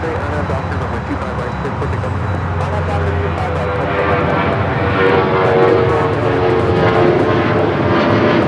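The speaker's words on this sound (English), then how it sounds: "This is Delta Airlines 449 taking off to Nashville, Tennessee on the 737-900ER." A Delta Airlines Boeing 737-900ER takes off, its jet engines producing a loud, continuous roar that grows a little stronger toward the end, heard up close without a break.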